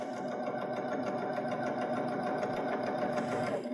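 A Baby Lock Jazz II sewing machine runs steadily with a plain hemmer attachment, its rapid, even stitching rhythm close and continuous throughout.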